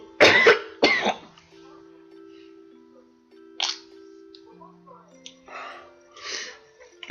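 A sick person coughs hard twice at close range, then gives a few weaker coughs and throat clears over quiet game music.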